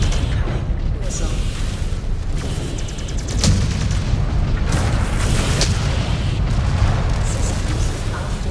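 Missile impacts and heavy booms rumble through MechWarrior combat in the Clans campaign, dense low-end blasts recurring over a steady mechanical drone, with sharper hits near the middle and later.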